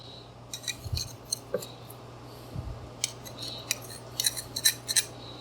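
Scissors snip basil for garlic knots in a kitchen, a string of short, close, crisp cuts in an irregular rhythm with a couple of soft thuds.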